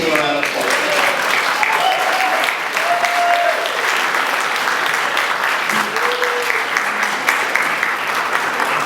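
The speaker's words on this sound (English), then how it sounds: "Please give a round of applause" An audience at a scholarship awards ceremony claps in a steady, dense round of applause that holds evenly throughout, with faint voices and scattered whistles mixed into the crowd.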